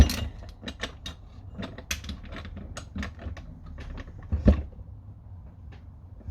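Hand tools tightening a fastener while reassembling a Derbi Euro 2 motorcycle engine: a run of close, quiet mechanical clicks and small metallic taps, with one sharper knock near the end and no talking.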